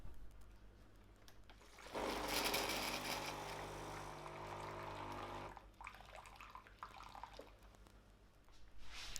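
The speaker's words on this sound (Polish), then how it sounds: "Mamy też możliwość zrobienia dolewki gorącej wody, jeśli mamy ochotę na amerykanę." Saeco Minuto espresso machine dispensing hot water, a hum starting at two seconds with a steady pump whir and hiss for about three and a half seconds, then quieter dripping and gurgling, heard nearby.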